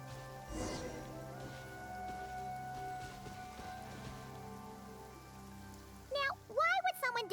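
Rain falls in the video game Genshin Impact, a soft, even patter under a low sustained musical hum, with a few brief warbling vocal-like sounds near the end.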